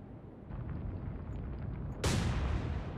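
Warship secondary guns firing in the naval game Atlantic Fleet, a sudden heavy boom that breaks over a steady rumbling battle din and rolls on loudly, with no talk.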